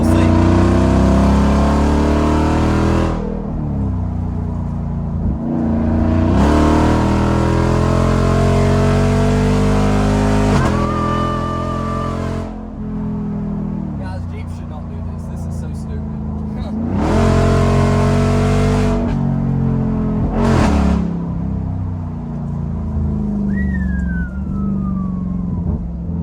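A Jeep Wrangler Rubicon 392 with a straight-piped exhaust revs hard in repeated bursts, each roar climbing and falling back to a loud rumbling idle between blips, close and very loud.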